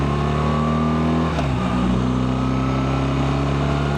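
A 2025 BMW R1300RT motorcycle carrying a pillion accelerates up to 50 mph on the road, its engine droning steadily with a rising pitch and a brief dip at a gear change before climbing again, close and continuous with no talking.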